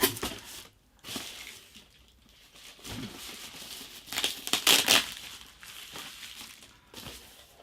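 Bubble wrap crinkles and rustles loudly while a box is unpacked, in uneven bursts of crackling with short pauses between handfuls.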